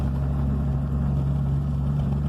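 A 1990 Chevrolet Caravan six-cylinder engine fitted with a Tucson V6 muffler idles with a deep, steady exhaust rumble, close and even for a couple of seconds.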